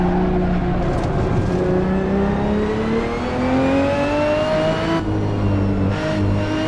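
A Ferrari 599XX Evo engine in the Assetto Corsa racing game revs up through the gears in rising sweeps, a loud, close, smooth howl that drops and climbs again after each shift.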